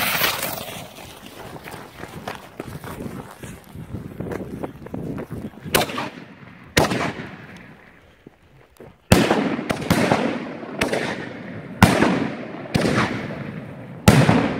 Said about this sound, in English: Got just six canister shells here all fused up.